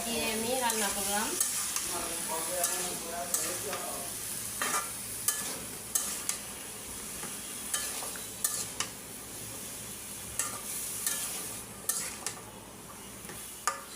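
Jackfruit seeds, yardlong beans and papaya cook in a pan with a sizzling hiss, while a utensil scrapes and clinks against the pan in repeated sharp knocks. A few vocal-like wavering tones sound near the start.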